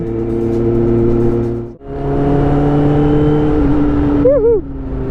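A Suzuki Raider motorcycle ridden on a road in Cavite: a loud, close engine drone that dips sharply during a gear change, then pulls again with shifting pitch and a brief rising rev near the end.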